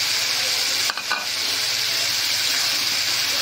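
Fish dropped into a pan of frying potatoes bring a brief clatter and dip, then a steady, loud, close sizzle of hot oil continues without pause.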